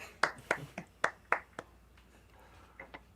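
A remote concert listener clapping: about six sharp claps in a steady rhythm, then trailing off into a couple of faint, scattered claps over quiet background.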